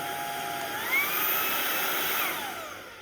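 A Proscenic P11 cordless stick vacuum switches on and runs with a steady whine whose pitch climbs as the motor spins up, then holds at a loud, even level for a few seconds before easing off slightly.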